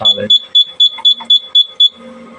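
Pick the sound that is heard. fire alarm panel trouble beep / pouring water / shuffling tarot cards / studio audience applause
fire alarm panel trouble beep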